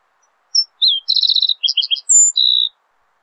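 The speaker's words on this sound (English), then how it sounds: "we'll go ahead and just single out the shrill song of a green-tailed towhee" Shrill, clear song of a green-tailed towhee in a mountain meadow near Big Bear Lake: a slurred note, then rapid buzzy trills and a high whistle ending in a sustained buzz, close and distinct over silence.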